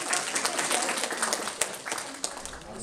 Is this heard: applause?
yes